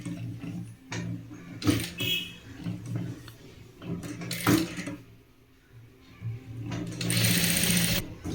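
A sewing machine stitches fabric for a small child-sized pardha in short bursts of rapid whirring, pausing between runs as the cloth is turned.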